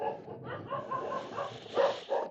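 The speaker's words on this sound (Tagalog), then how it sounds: "Daming mga aso, no?" Several household dogs bark repeatedly in a yard near homes, a cluster of barks rising louder near the end, with faint background noise throughout.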